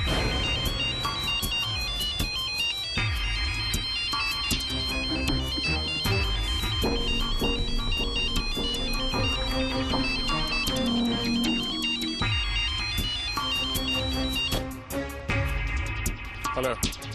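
A telephone ringtone plays loud and continuous as a repeating electronic melody in a Hindi television serial, with voices speaking over it and the tune breaking off near the end.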